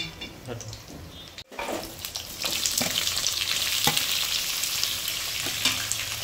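Onions hit hot oil with whole spices and cumin, and a quiet stir becomes a loud, steady sizzle with occasional scraping.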